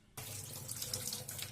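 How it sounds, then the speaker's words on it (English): Water from a tap runs into a sink, starting abruptly and then flowing steadily with a close, bright splashing hiss. No one speaks. "You see water flowing?"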